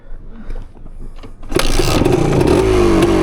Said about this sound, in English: It starts up nice and easy too.